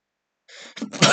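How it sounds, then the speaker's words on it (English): A single sharp human sneeze, close to the microphone, with a breathy intake building into a loud burst at the end. "I've just sneezed down your headphones there"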